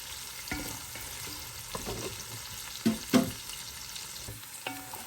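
Ginger sautés in a pan for ginataang hipon, giving a soft steady sizzle broken by a few louder scrapes and clatters of stirring, close by and without voices.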